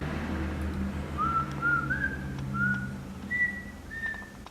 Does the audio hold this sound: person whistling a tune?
yes